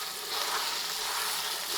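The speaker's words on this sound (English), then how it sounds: "You can hear that sizzling away." Steady, loud sizzling of beef searing in a Ninja slow cooker, a continuous crackling hiss with no voices.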